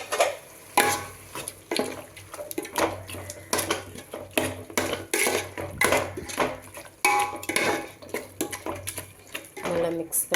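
Chicken biryani masala with chilli powder and garam masala being stirred in a pot, busy scraping and clinking of a spoon against metal over a soft sizzle, with quiet talk at times.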